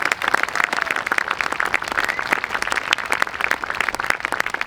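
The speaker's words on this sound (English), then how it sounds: "Yes, that deserves a round of applause." Audience applause at an outdoor memorial dedication ceremony, a dense, steady clapping from a crowd that holds at an even level for the whole stretch, with no talk over it.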